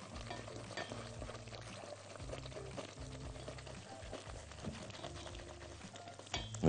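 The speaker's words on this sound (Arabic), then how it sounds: "ونقلب نقلب نقلب لحد ما يبدأ يربط" Béchamel sauce of flour, oil and nutmeg is stirred in a pan, a quiet continuous scraping and bubbling with faint kitchen hum underneath, heard close up with no talking.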